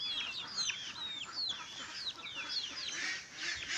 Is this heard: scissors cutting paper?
no